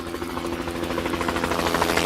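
A helicopter arriving during a live TV cooking show, its rotor pulsing in a steady chopping rhythm over a dense engine rumble that grows slightly louder as it approaches.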